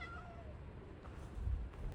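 A cat on a Jeju trip gives a couple of soft, drawn-out meows early on, followed by faint low rumbling outdoor background.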